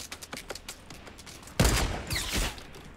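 Sniper rifle fire in Fortnite Battle Royale during a squad match: a single loud, close crack followed by a second burst and echoing tail, after a stretch of softer distant gunfire pops.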